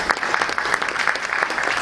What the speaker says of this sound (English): So that's a bit of a tepid applause.